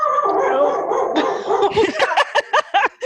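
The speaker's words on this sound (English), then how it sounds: "Sorry for the barking." Indoor dog barking in a rapid string of sharp, close yips and barks that grow more clipped toward the end, with a person speaking briefly over the start.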